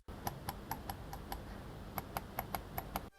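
Crisp, light clicks of an Asus ROG Gladius III Wireless gaming mouse button repeat in small irregular groups over a soft hiss, each click short and sharp.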